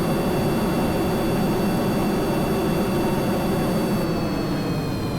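Aircraft engines roar loudly and continuously in Kerbal Space Program, a steady broadband drone with faint high tones, heard alone without talking.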